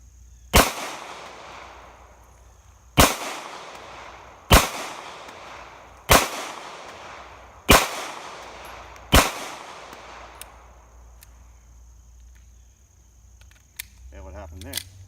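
Six sharp Taurus PT111G2 pistol shots crack out at a shooting range, spaced roughly one to two seconds apart, each loud report followed by a decaying echo, then quiet with faint handling noise at the end.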